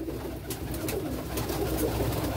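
Domestic pigeons cooing in a loft, a low steady murmur of soft coos running throughout with no pauses.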